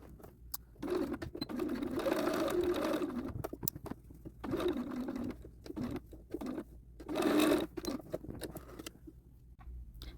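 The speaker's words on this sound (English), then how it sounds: "you're going to sew the back center seam" A sewing machine stitches the back center seam of a pair of pants at a quarter-inch seam allowance. It runs in several sustained bursts with short pauses between them, close by and steady, with no talking.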